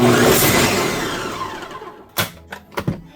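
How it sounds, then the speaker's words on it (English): A blender on low speed purees a hot pepper sauce, a steady loud whirring roar that slowly fades, followed by a few sharp knocks and clatters near the end. "Let's start the blend on low."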